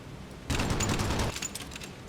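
Burst of B-17 ball turret machine gun fire in a World War II bomber video game, a loud dense rattle lasting under a second and then cutting off into engine drone.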